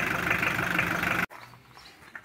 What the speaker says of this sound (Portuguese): Não chegou a apagar o motor não, mas tá do mesmo jeito que tava antes. Bem fraquinha, quase desligando.